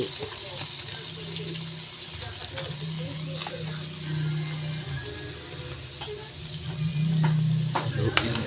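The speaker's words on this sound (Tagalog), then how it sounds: "halo-haloin lang po natin para ma-mix ang ating balatong o ginisang munggo" A wooden spoon stirs sautéed mung bean stew in a pan, giving soft repeated scraping and gentle sizzling beneath a person talking.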